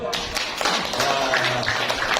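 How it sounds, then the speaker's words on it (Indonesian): An audience at a payment consortium event in Yogyakarta claps briefly, scattered hand claps and taps rising into a short burst of applause mixed with nearby voices. "Tepuk tangan dulu dong"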